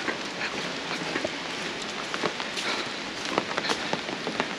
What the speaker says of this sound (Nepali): पानी पर्न थालिगो